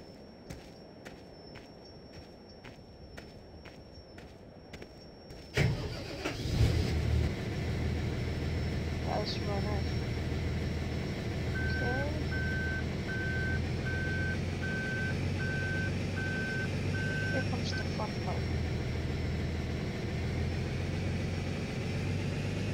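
A tractor engine in Farming Simulator 2013 hums steadily and starts up loud after a quiet opening, and a regular series of reversing beeps repeats over the drone partway through.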